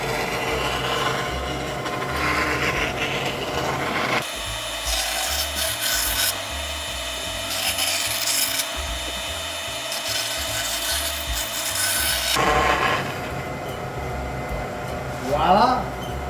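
A tool skims along a plywood guide in a continuous rough rasping scrape for several seconds, close and loud, with a low rumbling stretch in the middle and a brief squeak near the end.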